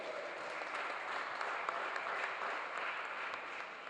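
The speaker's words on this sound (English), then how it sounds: "If we can give them a round of applause." Steady, dense applause from the crowd at a senior girls' basketball championship, cheering both teams after the game; an even, unbroken wash of clapping heard from a distance and somewhat faint throughout.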